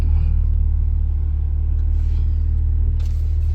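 Toyota Supra engine idling with a deep, steady low rumble, close and loud, with faint higher noises near the end and no talking over it.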